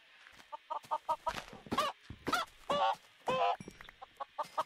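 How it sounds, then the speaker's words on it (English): Chickens in a Minecraft UHC video game, a run of short repeated clucks alternating with longer squawking calls, fairly clear and close against quiet background. "More chickens."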